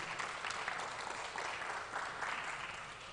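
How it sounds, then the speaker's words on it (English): An audience at a conference session applauds a moderator coming to the stage, dense sustained clapping with a light crowd murmur, steady and fairly close throughout. "Let's keep clapping as she comes."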